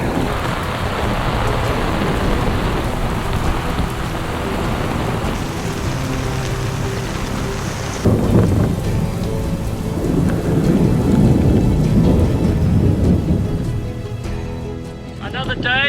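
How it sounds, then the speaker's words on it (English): A thunderstorm with steady rain pouring down and deep thunder rumbling through, loud and sustained, on a sailboat in northern Costa Rica; a voice may be faintly mixed in. "we're already hearing thunderstorms coming from up the valley"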